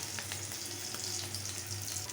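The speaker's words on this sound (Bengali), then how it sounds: "দেখো আমার লাল করে একটু ভাজা হয়ে গেছে।" Onion and garlic fry in a pan for a pointed gourd mash, a steady close sizzle with a few light stirring scrapes and no voices.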